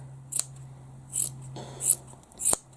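Scissors snip the long ends off a thick, firm yarn pom-pom made with a pom-pom maker, four separate close, crisp cuts spaced about half a second apart in a quiet room.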